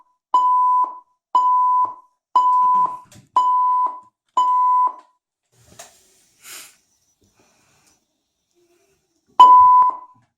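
A Vestel television's alarm beeps steadily, repeating five times in an even rhythm, falls silent for a few seconds, then sounds once more.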